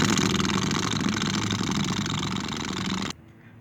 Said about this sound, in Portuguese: já tá ligando o motor, isso é um bom sinal